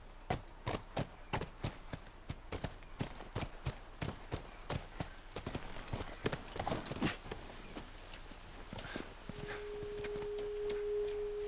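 Horse hooves clip-clop in a steady, brisk rhythm in the video game The Last of Us, fairly close, before a faint high tone and ambient hum take over near the end.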